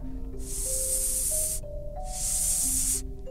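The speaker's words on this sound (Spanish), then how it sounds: "tras de ellos empiezan a oír un seseo y un zumbido" Sound effect for a radio drama: two long, loud bursts of hiss like a snake or spray. A low wavering buzzing tone runs beneath them throughout, with no voices.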